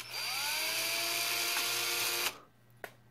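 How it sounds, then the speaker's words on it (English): A power drill whines steadily for about two seconds while boring a pilot hole for DIY FPV racing flag poles, then winds down abruptly, followed by a single faint knock, close and with no speech. "go ahead and drill your hole"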